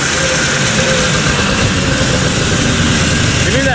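A 1980 Yamaha Enticer 300cc vintage ice oval race snowmobile engine idles steadily and loudly up close with a rough two-stroke drone, a freshly installed carburetor setup running somewhat poorly, continuous through the whole stretch.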